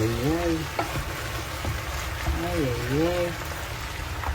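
Sayote strips and corned beef sizzle in a pan as a stir-fry, a soft, steady frying hiss with a voice heard over it.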